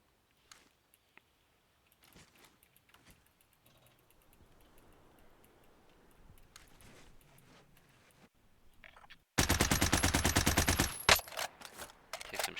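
Dense, rapid automatic video game gunfire erupts loudly after a stretch of quiet footsteps and faint game ambience, a sustained burst of rattling shots.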